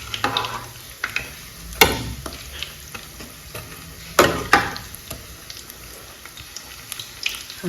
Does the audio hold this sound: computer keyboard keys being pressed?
no